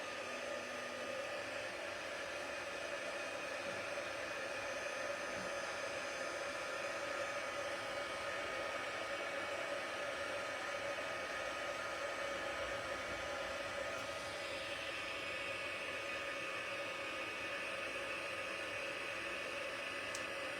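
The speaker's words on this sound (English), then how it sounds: "So I'm just going to heat emboss this and hopefully it will allow you to see" A heat tool blows continuously while melting clear embossing powder on a stamped card, a steady hair-dryer-like whoosh and hum lasting the whole stretch without pause.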